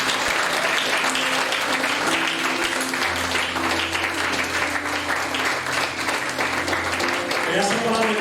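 A church congregation applauding during a revival service, dense sustained clapping from many hands filling the room, with music and a voice carrying underneath throughout.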